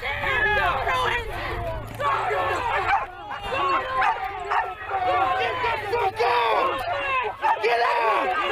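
Dogs bark and yelp at protesters at Standing Rock in a loud, chaotic mix of shouting voices, overlapping barks and agitated crowd noise that runs throughout.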